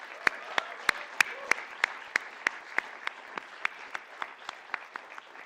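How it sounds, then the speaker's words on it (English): Sparse, distinct handclaps ring out in a large hall at a stock exchange listing ceremony, spaced irregularly and fading in strength, with faint voices in the background. "I think they deserve a big round of applause."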